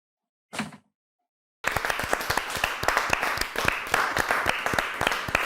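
A brief muffled sound, then silence, then a small group of people bursts into brisk, dense clapping that continues steadily and fairly close until the end.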